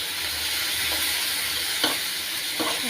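Lentils fry in a pan with a continuous loud sizzle and hiss, while a few short scraping stirs cut through close by, with no voices.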